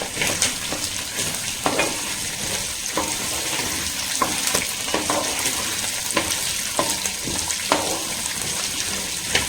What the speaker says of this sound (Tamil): கத்திரிக்காய் நல்லா வந்து பார்த்தீங்கன்னா ஆயிலில் கொஞ்ச நேரம் வந்து நம்மளுக்கு ரோஸ்ட் ஆகட்டும்.